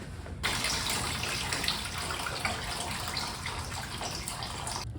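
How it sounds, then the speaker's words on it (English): Distilled water rushes steadily through a neglected Triumph's cooling system as it is flushed out, a constant broadband hiss that starts abruptly and holds even until it cuts off near the end, with no talk. "I'm actually going to run like half a gallon of distilled water through it just to flush it out"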